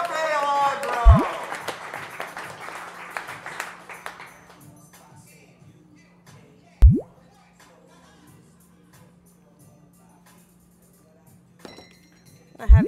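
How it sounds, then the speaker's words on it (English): A crowd at a barista competition gives a round of applause that swells briefly at the start, then thins and dies away, leaving a quiet room with a steady low hum and a few sharp clinks. "Another big round of applause for Laila Gambari's Cafe Allegro."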